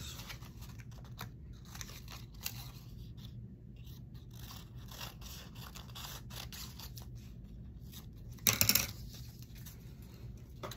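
Scissors snip through washi tape and a book page, giving soft, faint crunching cuts over a quiet background with one louder crisp snip near the end.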